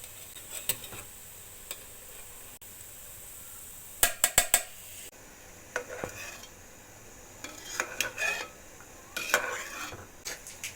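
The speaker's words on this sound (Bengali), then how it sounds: "এই তো রসটা সুন্দর বলক উঠে গেছে, এখন আমি উপর থেকে এই যে ফেনাগুলা সম্পূর্ণ তুলে দিই ফেলবো।" A spoon skimming foam off date palm juice at a rolling boil, with faint bubbling and scattered metallic clinks and taps against the pot, including a quick rapid cluster of knocks, quiet and close with no talk.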